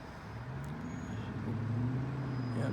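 Steady low engine drone and road rumble from inside a moving articulated city bus in Vancouver, continuous and moderately loud with a faint rise partway through.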